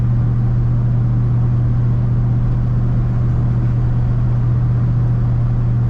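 A 1980 Chevrolet K10 Silverado 4x4 pickup cruises along a road, its engine giving a steady, loud low hum and rumble with road noise, unchanging and continuous throughout.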